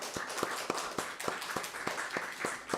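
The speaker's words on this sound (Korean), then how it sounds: "찬양대에게도 감사의 박수 하도록 하죠." A church congregation clapping for the choir at a Sunday service, about a dozen sharp claps in an even rhythm over a few seconds, close and moderately loud.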